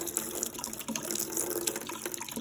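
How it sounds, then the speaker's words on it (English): Water drains from a container of washed fabric flowers for sugar glider toys, a soft steady splashing and trickling that is fairly faint and continuous, with no talk over it. "Okay, so we're gonna drain it."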